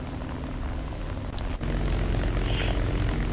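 The steady propeller drone of a Fairey Swordfish Mk II biplane engine in War Thunder plays loud and continuous, with a brief whoosh passing midway.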